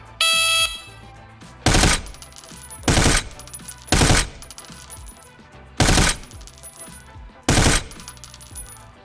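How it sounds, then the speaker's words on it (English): Rifle fire on a firing range in the video game America's Army: Proving Grounds comes as six loud, short bursts spaced a second or two apart, separated by quieter gaps with faint game tones. "Load one magazine and prepare to put lead down range."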